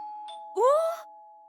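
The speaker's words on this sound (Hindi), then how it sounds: "अचानक घर की घंटी बजी" Doorbell at a house sounding once, a short two-tone chime after a faint click, clear and close against quiet with a lingering tone.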